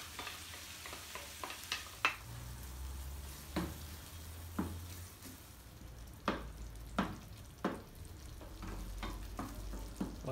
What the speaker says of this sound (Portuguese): Levantou a fervura